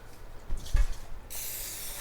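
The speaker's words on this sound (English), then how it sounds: "I'm just gonna spray it down with my butter flavored cooking spray" A short hiss of butter-flavored cooking spray into a pan, close by, starting after a faint rustle and holding steady to the end.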